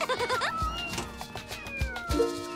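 A cartoon mother cat meows, giving a couple of short, close, pitched mews over soft background music and light sound effects.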